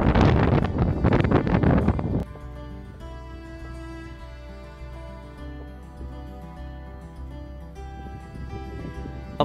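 Strong wind buffets the microphone in roaring gusts for two seconds on The Cheviot in Northumberland, then settles into a steadier rumbling wind with a low tonal drone.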